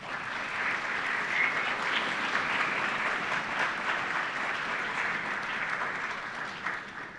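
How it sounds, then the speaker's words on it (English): Steady applause from a student audience at a law school first-year welcoming ceremony, a dense even wash of clapping sustained throughout with no voices over it. "I would actually like a round of applause from the students for the folks on the balcony"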